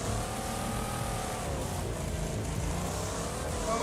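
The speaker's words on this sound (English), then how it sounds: "the Bandit Ripper is definitely a very high-powered rear-wheel drive car" Bandit Ripper, a high-powered rear-wheel-drive car in Wreckfest, roars with a steady, loud engine drone, its pitch rising and falling with throttle and gear changes throughout.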